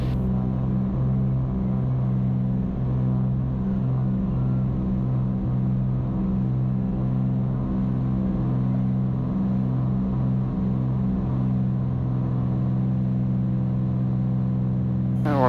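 A Cessna light aircraft's piston engine drones steadily and loudly during the climb after takeoff, a constant close cabin hum with no voices.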